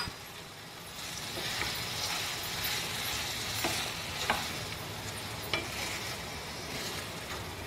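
Tomatoes sizzle and fry in a pan for a ridge gourd chutney while a utensil stirs them, giving steady close frying noise broken by occasional scraping clicks against the pan.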